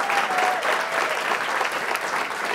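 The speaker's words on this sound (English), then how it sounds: "a big round of applause" An audience at a mixing and music production masterclass gives sustained, dense applause for Frank Filipetti, an even wash of clapping throughout.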